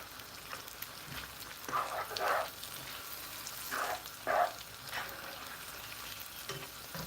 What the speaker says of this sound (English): I have a tablespoon of tomato puree. Just a tablespoon. You don't want more than a tablespoon. Stir this together.